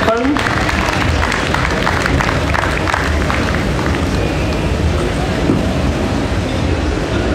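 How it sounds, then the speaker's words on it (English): A crowd applauds at a DJ tech award presentation during the BPM Show 2014, a steady, loud wash of clapping lasting several seconds, with a few voices mixed in. "round of applause to V-Moda for the M-100 headphone"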